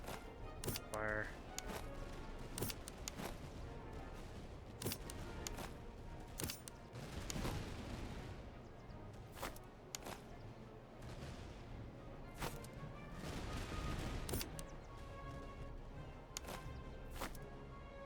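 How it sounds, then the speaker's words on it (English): Musket volley fire from troops in the Napoleonic-era strategy game Master of Command, repeated sharp cracks scattered across the battle under a commentator's talk, with rumbling bursts of massed fire in between. "You take off your bayonets, as can you, and you, and you. And then open fire"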